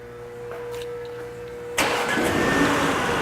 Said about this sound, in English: and in a few seconds the car will start.